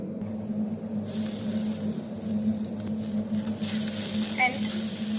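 Drumstick (moringa) leaves sizzle and hiss steadily in a hot pan, with a few stirring scrapes over a constant low hum.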